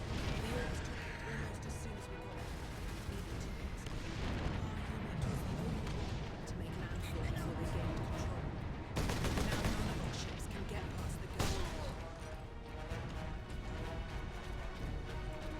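Gun battery in Warhammer 40,000: Space Marine pounding away with heavy repeated blasts, crashes and sustained rattling fire, fairly quiet overall, while someone talks over the din.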